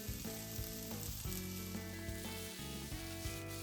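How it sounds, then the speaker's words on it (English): Sliced onions stir frying in oil over medium heat, a steady close sizzle with frequent stirring scrapes and clatters over a loud, busy bed of background music. "I stir fry them over medium heat until they become transparent."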